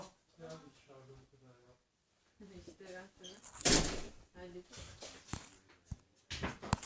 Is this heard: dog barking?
no